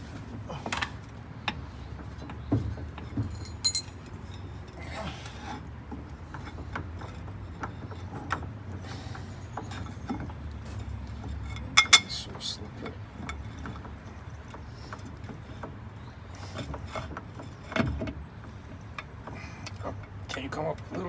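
Metal bolts and parts are rummaged through in a workshop while working on a GM 4104 bus, giving sparse, irregular clinks and clicks with a couple of sharper knocks, under occasional low talk.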